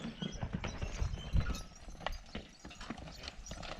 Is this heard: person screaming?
no